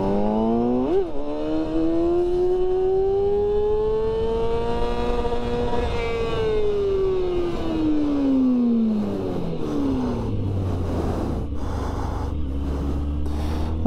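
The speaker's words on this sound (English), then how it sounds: "That was the rev limiter in second gear." A motorcycle engine revving hard in second gear at a wheelie school: a loud, close engine note climbs in pitch, holds near the top at the rev limiter, then drops away as the throttle closes, leaving a rougher idle.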